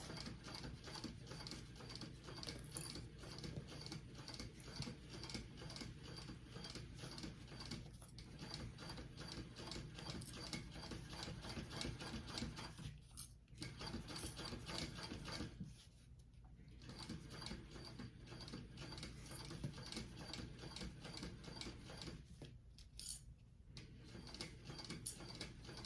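A sewing machine top stitching a crossbody bag at a slow, even pace, its needle ticking rapidly and continuously with a few short pauses, quiet and close.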